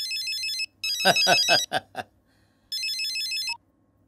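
A phone ringtone trills in short electronic bursts, interrupted by a few sharper ringing tones, then one more burst before it cuts off.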